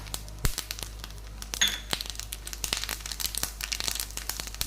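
Mustard seeds spluttering in a little hot oil for tempering, a dense run of sharp crackles and pops scattered unevenly over a steady background hiss, close and fairly loud with no talking.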